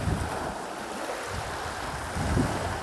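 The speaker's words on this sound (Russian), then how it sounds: "Волна. Такая небольшая." Small waves lap on a sandy beach at Lake Peipus, with soft repeated splashes near the shore under steady wind noise buffeting the microphone.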